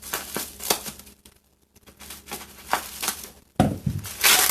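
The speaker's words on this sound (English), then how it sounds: "let's see if we can find some tape on here and cut into it" A blade cutting through packing tape on a shipping box of ceramic bisque pieces, crinkly tearing and scraping bursts with a short quiet gap, close and moderately loud.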